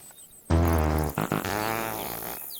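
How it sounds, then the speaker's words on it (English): Fart sound effect played by an Alexa smart speaker, one loud, drawn-out buzzy blast with a wavering pitch that breaks briefly partway through and then trails off. "Alexa, fart."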